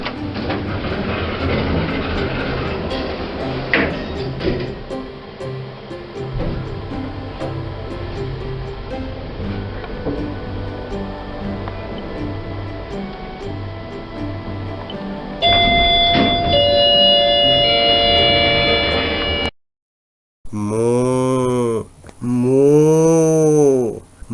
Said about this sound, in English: These are some generic hydraulic lifts, and only the lift on the left stops at the ground floor.